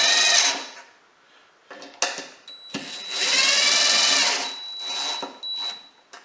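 A power driver sends screws into a pre-drilled, pre-countersunk wooden Beecastle hive box, with close, loud bursts of motor whine rising in pitch as each screw seats, separated by brief pauses, clicks and handling knocks, and no talking.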